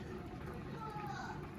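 Children's voices chatter and call out in the background, a busy, steady murmur of play without any single clear voice in front.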